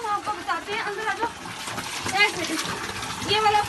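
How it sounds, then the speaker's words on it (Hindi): Water flowing strongly at a scenic waterside spot, a continuous rushing, splashing wash that fills the clip without pause. "ये वाला पानी है बहुत ही ज़्यादा।"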